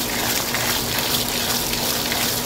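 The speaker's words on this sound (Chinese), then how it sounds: "洗米煮饭" Water running hard and steady from a tap while rice is washed in a kitchen of a family-run braised pork eatery, a loud close gushing flow with no voices.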